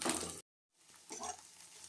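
Chopped onion and onion paste frying in a pan for green banana kofta curry: a soft, hissing sizzle that cuts out briefly, then returns more faintly with light stirring.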